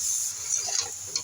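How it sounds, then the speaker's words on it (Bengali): Mixed vegetables with eggplant, green chilli, tomato, Malabar spinach, salt and turmeric are stir-fried in a pan, giving a close, steady sizzle with soft scraping stirs throughout. "আমি সব সবজিগুলোকে খুব ভালো করে কষিয়ে নেব।"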